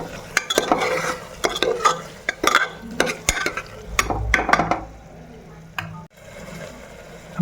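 A spoon scrapes and clatters repeatedly against a cooking pan while potatoes, peas and salt are stirred, giving a rhythmic series of sharp metallic knocks over a faint sizzle.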